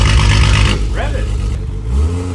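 A BMW N55 engine fitted with a cheap valved exhaust revs up hard, the loud, deep exhaust note rising and falling up close, with a voice speaking near the end.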